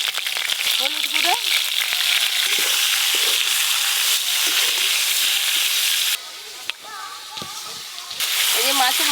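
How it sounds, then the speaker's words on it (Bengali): Fish heads frying in mustard oil in a wok give a steady, loud sizzle, with scraping and crackling from stirring and a short dip partway through. A voice is heard briefly over the frying. "এবার মাছের মাথা ভাজার জন্য কড়াতে সর্ষের তেল দেব।"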